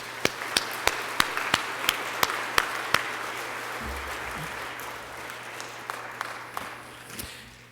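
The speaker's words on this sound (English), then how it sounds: "Let's give them a round of applause." A church congregation at a Sunday Mass claps in applause for the scouts, starting with a few sharp, evenly spaced claps that blend into a soft wash of clapping and then thin out into scattered late claps.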